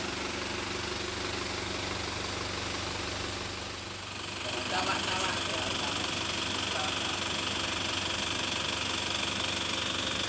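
A 2015 Isuzu Elf NKR 55 bus with Adiputro bodywork runs steadily for the whole stretch, a low, continuous engine rumble with a constant mechanical drone and no pauses.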